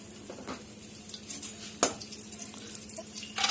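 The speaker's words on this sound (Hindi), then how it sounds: "तो अब हम फिर से 1 चम्मच घी डालेंगे" A spoonful of ghee sizzles softly in a pan, a quiet steady frying hiss punctuated by a few sharp clinks of a spoon against the metal.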